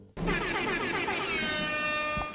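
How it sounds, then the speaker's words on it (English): A loud, sustained air horn blast marking a bonus round in a Five Nights at Freddy's game starts abruptly and holds steady for about two seconds, its bright harmonics filling the sound with no talking. "you'll hear an air horn to signify a bonus round"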